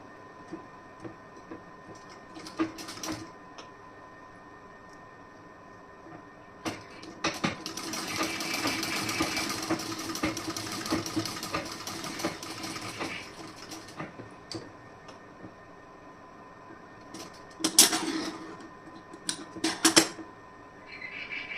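An electric sewing machine stitches a plain blouse, giving a faint, steady mechanical whirr for several seconds in the middle, with short bursts of clicking and rattling before and after.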